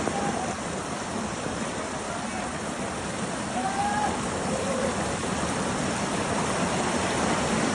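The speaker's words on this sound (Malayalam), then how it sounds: "മൊത്തം വെള്ളം കയറി ഒലിപ്പ്. പരിയേല ഭാഗത്ത് ഭയങ്കര ഒലിപ്പാണ്." Strong floodwater current flowing, a dense, steady roar of rushing water, loud and continuous throughout, with no break and only faint traces of other sound beneath it.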